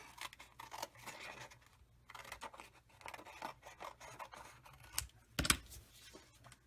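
Several short crisp snips of scissors, close by, scattered among rustling paper and handling noises, with a couple of sharper clicks near the end.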